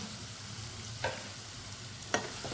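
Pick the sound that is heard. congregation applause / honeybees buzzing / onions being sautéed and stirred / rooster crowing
onions being sautéed and stirred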